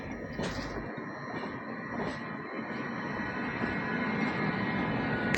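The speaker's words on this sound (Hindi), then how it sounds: "ये भाई सामने राजधानी एक्सप्रेस छत्रपति शिवाजी टर्मिनस हजरत" A Rajdhani Express with a full locomotive runs alongside on the Chhatrapati Shivaji Terminus to Hazrat Nizamuddin route, a steady loud rolling rumble with rattling and squeaks that holds throughout and swells slightly at the end.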